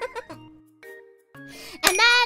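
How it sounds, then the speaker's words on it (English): A desk bell or chime rings once with a bright, ringing tone that decays briefly, coming right after talk; the setting is a live stream. "Oh, my bell scared me!"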